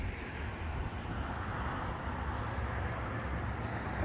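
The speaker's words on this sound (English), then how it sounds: "I wish we didn't have sounds of cars in the background" Distant car traffic hums and whooshes steadily below a scenic overlook, a broad continuous roadway wash with no single vehicle standing out.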